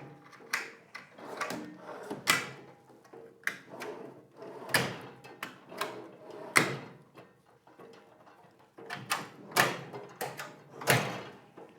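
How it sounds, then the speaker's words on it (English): Drawers of a Harbor Freight six-drawer rolling tool cart are slid open and shut one after another, metal runners rumbling and ending in sharp closing knocks, close by in a quiet room. "my Harbor Freight 6-drawer roll cart. I got all 6 drawers in, they all work."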